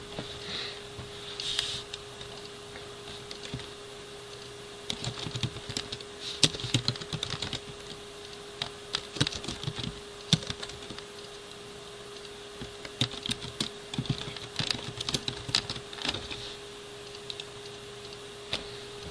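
Steady computer keyboard typing with irregular bursts of clicking keystrokes, fairly close and moderately quiet over a faint constant hum, with no talking.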